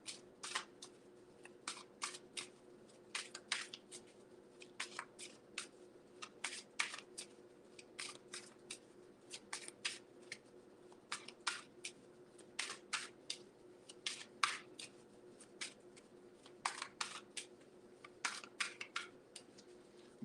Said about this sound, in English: I'm shuffling it really good.